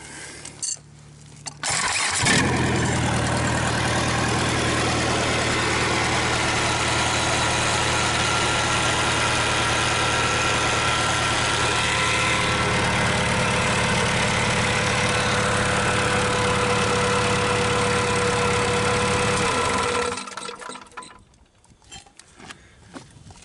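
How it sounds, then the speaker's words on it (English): A Perkins 1000 series 4.2-litre diesel engine with a suspected timing fault cranks, fires and settles into a loud, steady close-up idle, then dies away near the end. "I'm going to start her up here."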